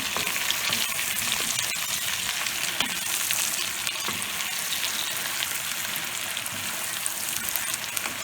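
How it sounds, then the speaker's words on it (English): Potatoes fry in a pan while being stirred, a loud dense sizzle like rain on a surface running steadily, with small crackling pops and occasional stirring clicks. "so now here's the potatoes. And we're just going to give those a good mix around"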